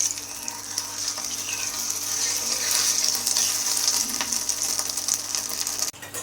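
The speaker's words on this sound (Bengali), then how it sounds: "এখন হচ্ছে ডিম ভাজা হচ্ছে ডিম" Eggs fry in a pan with a steady, close, bright sizzle that holds for several seconds, plus faint stirring scrapes. A soft knock sounds near the end.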